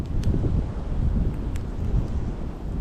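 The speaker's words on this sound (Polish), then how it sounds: "Chwila wiatru." Steady low rumbling wind buffets the microphone for the whole stretch, with a few faint higher ticks above it.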